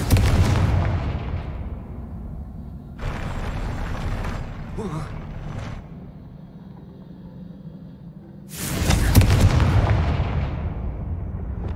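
Confringo blasting spells explode in Hogwarts Legacy, with loud booming bursts at the start, a sustained rumble in the middle and another heavy blast near the end, over game noise.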